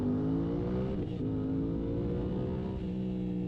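A Suzuki GSX-8R motorcycle accelerates, its engine droning loud and close throughout with rising tones, and a short dip in pitch around a gear change. No speech is heard.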